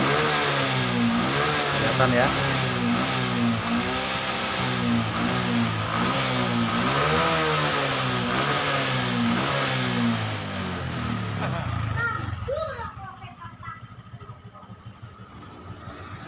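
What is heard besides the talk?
motorcycle engine revving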